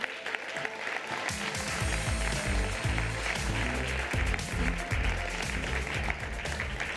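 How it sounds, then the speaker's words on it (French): A crowd at a French launch evening applauds the arrival of Sophia Morgavi with steady, full clapping, backed by loud upbeat music with a thumping bass line throughout. "je vous demande d'applaudir Madame Sophia Morgavi"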